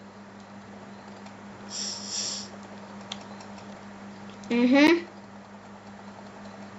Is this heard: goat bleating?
no